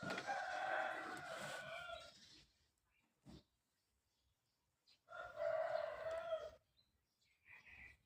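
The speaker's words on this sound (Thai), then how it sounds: "ไก่จังเลยพี่น้อง" A rooster crows loudly twice in succession, each long call lasting about two seconds with a pause between, followed by fainter short bird sounds.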